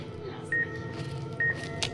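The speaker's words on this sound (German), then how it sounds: "Ach, was ist denn hier der Piepser, ey?" Two short, clean electronic beeps sound about a second apart in the video game Fallout New Vegas, over a quiet room-tone background.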